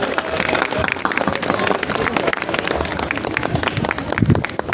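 An audience at a National Voters' Day event at an election office claps to welcome the chief guest, a district election officer. The clapping is steady and moderately loud with scattered individual claps and faint crowd noise.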